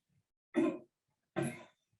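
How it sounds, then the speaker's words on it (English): Two short, breathy coughs from one person during a spirometry lab, close by, separated by a brief pause in otherwise quiet surroundings. "Oh, just one cough, one cough."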